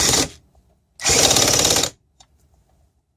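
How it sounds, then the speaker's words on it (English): A power drill driving onto a bolt on a Keystone outboard motor, two short loud bursts of whirring, the second longer, separated by quiet gaps with faint clicks. "Drill onto a bolt."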